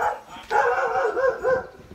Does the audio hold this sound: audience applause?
no